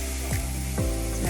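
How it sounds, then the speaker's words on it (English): Blackened ribs sear in a hot pan with a steady, close sizzle and a few soft scraping or shifting sounds, with no talking. "So we're gonna go ahead and let the other side go ahead and sear."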